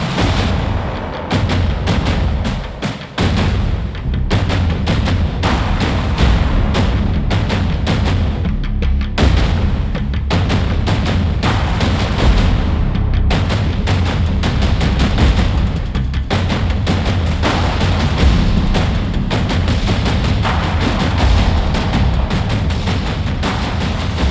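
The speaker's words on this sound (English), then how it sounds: "And then we have our drums doing all the trailer stuff." Heavy, booming percussion hits pound continuously, deep and loud, with rapid thunderous strikes layered into a dense, driving cinematic rhythm.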